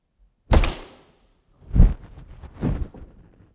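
An archer shoots an arrow from a bow: one sharp thunk of the release, then two softer, duller thuds follow in the quiet room.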